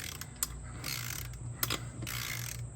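Torque wrench ratcheting on a TYM T474 tractor wheel hub while fitting wheel spacers, a few slow metallic clicking pulls with short pauses between them, close and moderately loud in a quiet setting.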